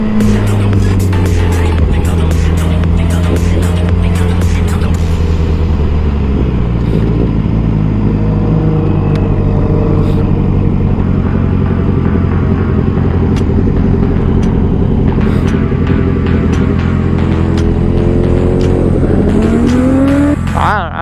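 Several motorcycles, among them a KTM, a Yamaha FZ-09, an R7 and a BMW S1000RR, ride together in a loud, continuous engine drone with rising and falling revs and heavy wind noise from an onboard rider's view.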